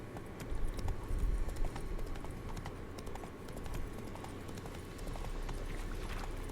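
A horse gallops in The Witcher 3 video game with a continuous, fast clip-clop of hooves, moderately close and steady throughout.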